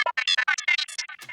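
An unprocessed psychedelic synth lead, without the Tritium audio effect, plays a quick run of short, bright, buzzy notes in a choppy rhythm, up close and alone for just over a second.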